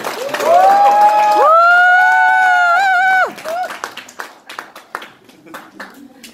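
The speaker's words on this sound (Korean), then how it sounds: "다시 한 번 큰 박수로." An audience applauds at a church new-family festival: a long drawn-out vocal cheer rings out, then scattered claps patter on and fade irregularly.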